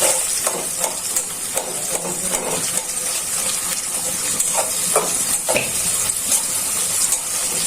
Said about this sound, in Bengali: ভালো করে পেঁয়াজটা ভাজা হয়।